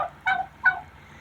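Chickens cluck in a homestead coop, two close, distinct calls about half a second apart over a quiet background.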